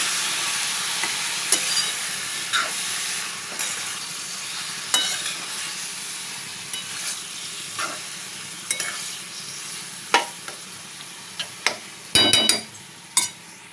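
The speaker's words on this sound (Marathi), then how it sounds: "आता आळंबी घातली आहे बघा आता चांगलं परतून घेते मी ते" Wild mushrooms sautéing in a pan give a soft continuous sizzle, punctuated by irregular sharp scrapes and clinks of a spatula stirring, close and fairly quiet.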